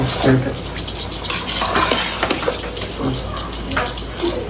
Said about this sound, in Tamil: இது ரொம்ப நேரம் அப்படியே கொதிச்சுக்கிட்டே இருக்கு.